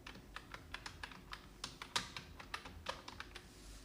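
A name is typed on a computer keyboard in a quick, irregular run of faint, close keystrokes with no talk.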